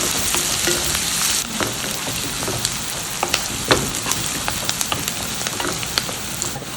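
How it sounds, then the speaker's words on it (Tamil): Finely chopped onions sautéing in oil for a dried vanjaram fish thokku give off a steady dense sizzle, with scattered crackles and pops throughout as they fry alone without talk. "நல்லா வெங்காயத்தை எண்ணெயில் வதக்கி விட்டுப்போம்."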